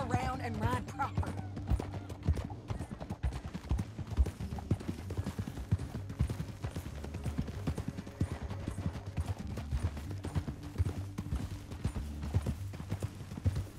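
Horse hooves clip-clop at a steady trot in Red Dead Redemption 2, the rhythmic beats continuing throughout beneath low game music and an occasional whinny.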